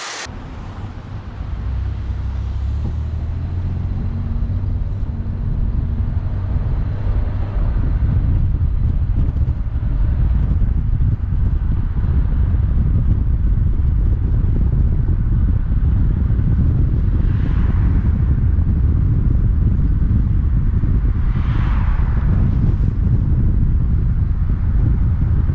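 A Pontiac Grand Am being driven on a test run to a gas station, heard from inside as a loud, steady engine and road rumble with wind noise building after a short start, no talk.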